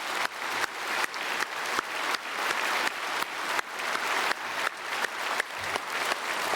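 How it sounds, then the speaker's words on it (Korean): Church congregation applauding during a Sunday worship service, a steady dense clapping that swells in repeated surges, close and full, with no voices over it. "우리 박수로 축복하겠습니다."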